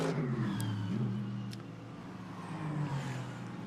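GT race cars circling at Barcelona under a safety car, a steady mid-pitched engine drone from a car passing at moderate distance, with a faint background whine.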